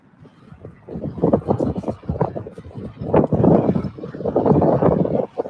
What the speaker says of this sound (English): It's so windy, it's about to blow my hat off.